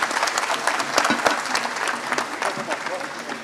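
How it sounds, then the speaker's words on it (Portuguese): Audience applause at the close of a technical panel session at an ANTP arena event, a steady dense clapping sustained through the whole stretch with a few sharper claps standing out, fairly loud and close. "Pessoal, por favor, aplausos aos participantes e muito obrigado pela atenção."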